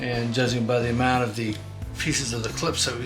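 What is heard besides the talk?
No distinct noise like a dog, phone or traffic.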